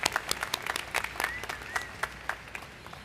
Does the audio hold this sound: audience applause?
yes